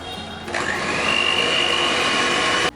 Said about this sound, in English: we are going to beat this egg also as we add in our second egg